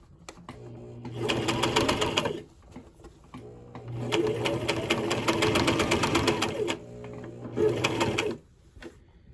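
A sewing machine stitching a skirt, running in three bursts of steady rapid mechanical whirring and ticking, close by, with short quiet pauses between the runs.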